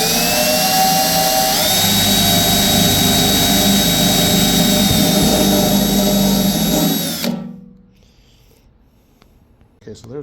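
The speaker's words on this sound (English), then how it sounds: "Let's drill some holes." A power drill bores holes into a fuel tank, whining loud and close in one long sustained run with a rising pitch partway through, then cutting off abruptly into near silence.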